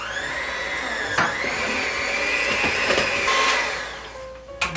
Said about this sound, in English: mix together the cream cheese and sugar on medium-low speed